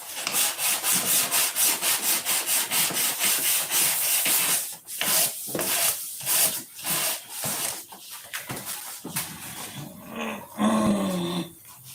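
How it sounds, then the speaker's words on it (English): Sandpaper rubbing on wood in steady rapid back-and-forth strokes, close and even at first, then slower, more spaced strokes toward the end. "It's time for another piece of sandpaper."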